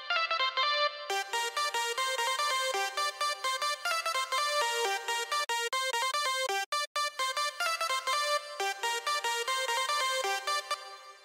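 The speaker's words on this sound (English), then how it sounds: "Now I'm slowly adding the reverb again." Dense, continuous music in an FL Studio mixdown with bright layered tones and a wash of added reverb giving a sense of room, playing loudly throughout with a brief dropout near the middle.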